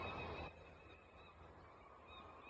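Faint bird calls, nasal and honking, repeat over quiet outdoor background noise, following a brief burst of louder rustling at the start.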